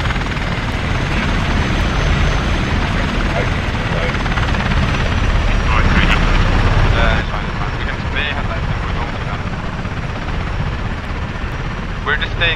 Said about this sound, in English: We're just staying here for now until this helicopter leaves.